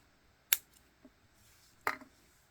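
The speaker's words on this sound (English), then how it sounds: "use your other pliers to cut it" Pliers snip short lengths of beading wire, two sharp distinct clicks about a second and a half apart against a quiet background.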